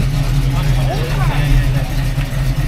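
Deep, steady rumble of a 1965 GT350 engine idling or running nearby, with a strong low drone throughout. Faint voices can be heard under it.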